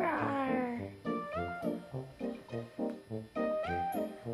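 A toy animal sound rug plays a cat meow, a short electronic meow rising and falling, followed by a bouncy repeated toy tune of evenly spaced notes, close and fairly loud.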